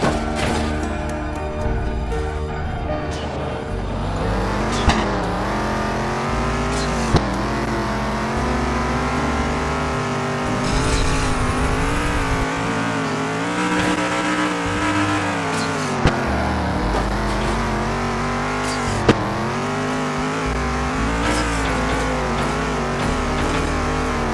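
Arcade car engine in the Grand City Racing game, a Lightning McQueen-style car bouncing over off-road terrain, drones and revs continuously with rising and falling pitch and a few sharp clicks, loud and close with no talk.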